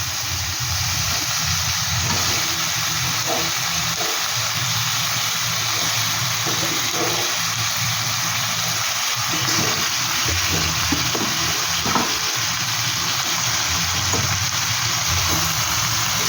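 Chicken meat frying in a hot pan for a fennel chicken dish, a steady loud sizzling hiss that holds without a break and with no talking.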